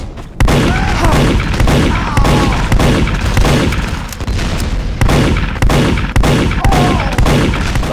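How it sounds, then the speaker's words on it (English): Rapid gunfire from Team Fortress 2 on PS3, loud and close, with bursts of shots repeating in quick rhythmic volleys for several seconds. "Look how many bullets I'm shooting."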